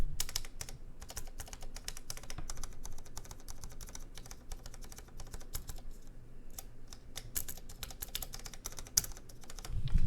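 A Dark Ex Ecliptica mechanical keyboard with Cherry switches is typed on steadily, producing a close, continuous patter of crisp clicky keystrokes with only brief gaps.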